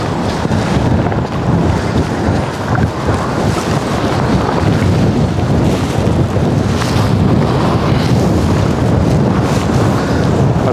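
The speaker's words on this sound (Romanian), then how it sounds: "Dar urâte sunt rafalele astea." Strong wind roars and buffets the microphone continuously at a carp fishing spot, a loud, rough rush with surging gusts throughout and no voices.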